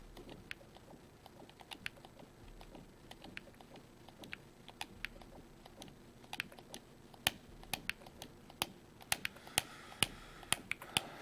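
Mouse clicks while sending Call of Duty: Ghosts invites, quiet scattered taps that quicken and grow sharper toward the end, no talking.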